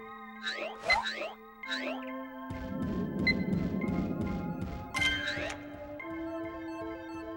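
Cartoonish boing and bonk effects from the video game Pokemon Snap sound in quick succession, with bright springy chirps, a busier rumbling burst in the middle and sustained electronic tones, all without talk.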